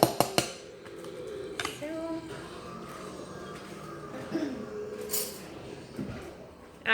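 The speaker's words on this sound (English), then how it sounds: "I'm going to scoop it out and put it into a Ziploc bag." Mashed avocado chocolate mixture scooped from a bowl into a Ziploc bag, with a few sharp spoon clinks against the dish at the start and soft scraping and rustling afterward.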